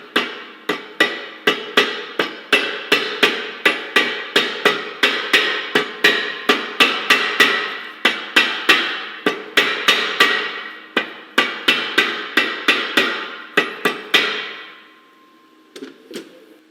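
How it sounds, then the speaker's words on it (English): A soft face hammer taps a pinion flange onto a rear axle, a steady run of about thirty close, sharp metallic knocks in even rhythm that stop near the end, followed by a brief faint clatter. "You may need to use a soft face hammer to get the pinion flange on."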